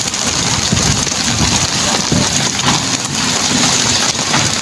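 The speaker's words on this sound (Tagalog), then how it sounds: "Patuloy ang ulan." Heavy rain pours down in a dense, loud, continuous hiss, close by, with no voices, during a downpour flooding Tabunok, Palompon, Leyte.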